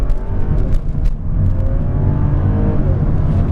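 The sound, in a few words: 2012 Audi A6 all-wheel drive launch acceleration from green light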